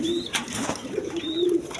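Grizzle pigeons kept as a breeding pair with a chick in a breeder's cage give low coos that recur at a steady level, with faint rustling around them.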